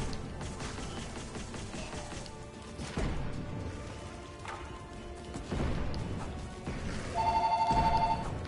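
A telephone ringing unanswered in the video game Ziggurat, a steady bell tone that swells louder toward the end over a busy, crashing in-game soundscape.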